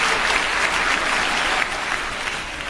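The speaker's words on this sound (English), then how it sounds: "Let's give this cast another round of applause." A theater audience applauds the cast after a Charles Dickens stage production, a loud, sustained, evenly dense wave of clapping that eases slightly toward the end.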